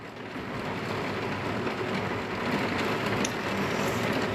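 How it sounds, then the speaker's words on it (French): Steady rain falling outside, a dense continuous hiss with soft patter that holds at an even, fairly loud level without pauses. "Je suis désolée, on sera sous la pluie."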